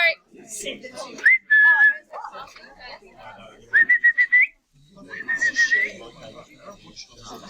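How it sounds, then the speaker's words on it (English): A person's whistle, three sustained, bright whistled tones in separate bursts, loud and close, with talk and room chatter running between and around them. "you know that whistle?"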